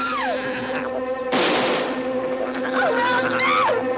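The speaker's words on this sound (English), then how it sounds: "I haven't seen a wasp that big since the Nixon years" A giant wasp buzzes in the old science-fiction film King Dinosaur: a droning whine with swooping pitch bends, cut midway by a sharp burst of noise before the buzzing returns.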